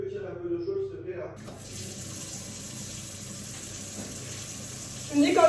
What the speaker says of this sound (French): tu peux tirer un peu d'eau chaude, s'il te plaît, là?